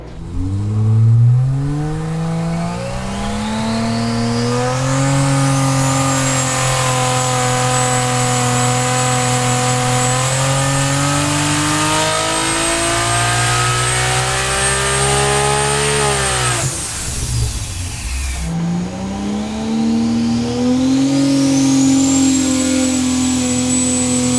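A Dart 2JZ engine on a dyno climbs in a long, loud rev up to about 8,400 RPM, holds its scream, drops sharply off throttle, then starts climbing again, up close with no talking.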